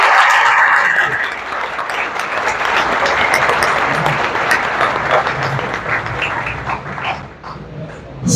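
Loud applause from an audience at a maths book launch event, dense continuous clapping that swells and dips, with a few dog-like yelps and faint voices underneath.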